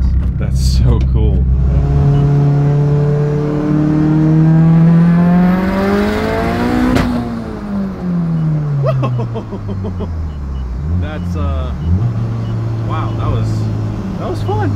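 809 hp all-wheel-drive Mazdaspeed 6 running on pump gas accelerates hard, engine note climbing loudly through the gears with a shift and continued pull, heard from inside the car with people talking over it.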